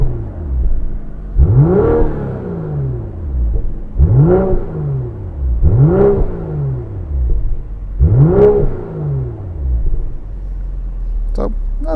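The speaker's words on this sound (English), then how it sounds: "So, not bad sounding exhaust." Four separate revs of a 2022 BMW M440i Convertible engine through its exhaust, each rising to a loud roar then falling away, spaced a couple of seconds apart over a low steady rumble.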